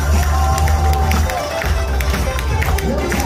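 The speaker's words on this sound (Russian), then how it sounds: "Аплодисменты" Crowd on the Maxim Litvinov river cruise ship during a pirate-day show, loud continuous cheering and clapping over a booming low music bed, with voices mixed in.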